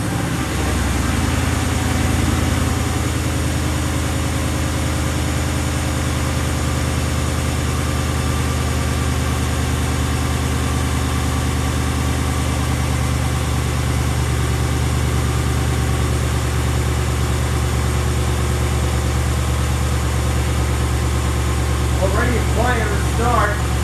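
A 2018 Ram 3500 single-rear-wheel pickup engine idles after an Amsoil oil change, a steady low, loud rumble heard close up for the whole stretch, with faint voices near the end.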